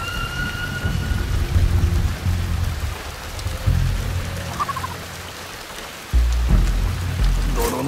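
Rain pours steadily in the stealth game Shadow Tactics: Blades of the Shogun, a dense hiss with low rumbling thunder swelling and a sudden louder surge near the end, no voices.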